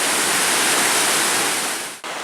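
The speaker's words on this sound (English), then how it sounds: "this is an awesome waterfall" Roar of a tiered waterfall at Gooseberry State Park, a loud, continuous broadband rush filling the whole clip with only a brief dip near the end.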